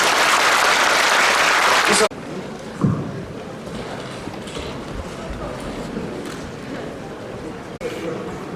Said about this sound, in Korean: 구윤철 대표님께 큰 박수 부탁드립니다.